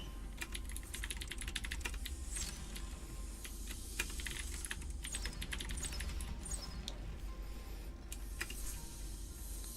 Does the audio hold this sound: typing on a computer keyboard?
yes